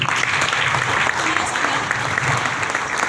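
An audience clapping, a dense steady round of applause that holds at full loudness for the whole stretch, with speech mixed in.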